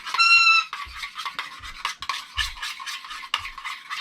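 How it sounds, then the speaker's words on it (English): A teriyaki and blue cheese sauce is stirred in a bowl with a utensil, making repeated close clinks and wet scraping strokes in an uneven rhythm. A brief high ring sounds at the start. "And you're just going to mix that up."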